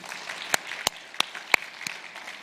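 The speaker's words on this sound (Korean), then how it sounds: "박수 한번 하겠습니다" A handful of separate, sparse claps sound in a church congregation, about six distinct hand claps spread over a couple of seconds, fairly faint and quiet between them.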